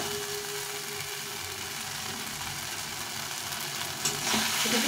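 Spice paste for a Bengali snakehead fish curry sizzles steadily in a pan as it is sautéed, a continuous close frying hiss with a brief louder burst near the end.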